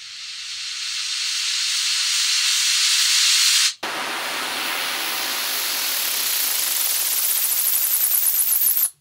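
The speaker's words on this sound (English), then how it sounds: "Uplifters." An analog synth uplifter riser from a sample pack swells as a bright rising hiss, cuts out briefly, then builds again with a pulsing, fluttering top before stopping abruptly.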